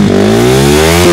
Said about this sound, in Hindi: इसका एक्रोपोविक का एग्जॉस्ट, और इसकी मैं साउंड सुना रहा हूँ आपको